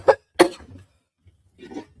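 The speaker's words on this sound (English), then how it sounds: "It's like a never-ending cough." A man gives two sharp, close coughs in quick succession, followed after a pause by a softer, rougher cough or throat sound.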